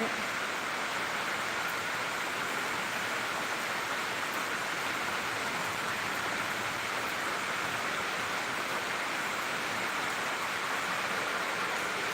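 Heavy rain pours down in a dense, unbroken hiss that holds at an even, fairly loud level for the whole stretch, with no clear voices above it.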